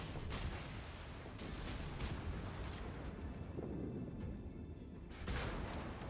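Naval gunfire from an enemy warship in World of Warships, heard as a dense, continuous rumble of booming shell volleys with louder bursts near the start, middle and end, sustained at a steady loud level throughout.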